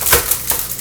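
Aluminum foil crinkling and crushing as it is pressed over a strawberry shortcake in a box, giving a few quick papery crackling bursts close to the microphone, with no talk.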